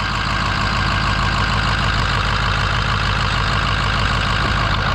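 A Ford F-350 pickup's engine idles loud and close, a steady, even rumble with a faint knocking pulse running through it and no voices.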